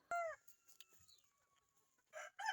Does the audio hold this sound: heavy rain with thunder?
no